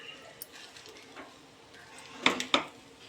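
Fried vermicelli gets stirred in a pan: a few quiet scrapes and two sharp clinks of a utensil against the metal pan, faint and close, with light background noise.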